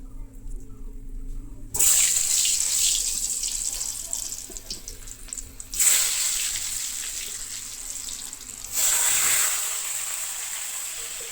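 Potatoes dropped one after another into hot mustard oil in a wok, giving loud bursts of hissing sizzle that rise sharply at each addition and settle into a steady crackling fry, with no talk.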